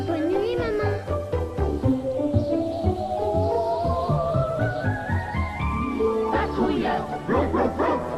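Toy guard dog barking in a 1991 French-language TV commercial, a series of high yapping barks over a jingle with singing, under children's and adult voices.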